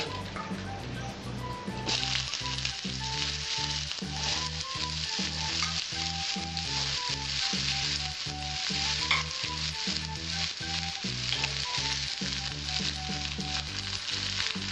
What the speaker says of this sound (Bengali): আমার তেলটা গরম হয়েছে, আমি এবার উচ্ছেগুলো এর মধ্যে ছেড়ে দেবো।